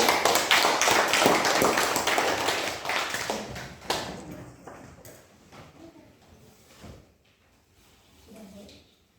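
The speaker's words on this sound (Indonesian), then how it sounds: "Tepuk tangan." Students clap their hands in a classroom. Fast, crisp claps are loud at first, then thin out and fade after about four seconds, leaving scattered quiet taps and soft room noise.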